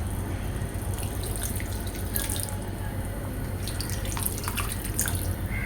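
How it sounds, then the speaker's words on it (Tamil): Water poured into a pan of baby corn gravy, a steady close splashing trickle with small drips and bubbling that carries on throughout without pause. "இப்போ கொஞ்சம் தேவையான அளவுக்கு மீடியமாக தண்ணி சேர்த்துக்கலாம்."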